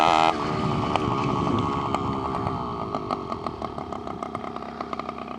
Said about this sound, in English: here we have the engine kit on the bicycle